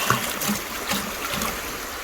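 Creek water flows steadily with a broad, constant rushing wash and small trickling splashes, close and fairly loud, with no talking.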